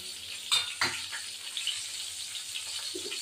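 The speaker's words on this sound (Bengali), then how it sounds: "এবার এই কটা লঙ্কা দিয়ে দেবো মধ্যে" Green chillies dropped into hot hilsa fish oil in a pan, a steady bright sizzle with a couple of sharp spits and stirring clinks near the start, close and continuous.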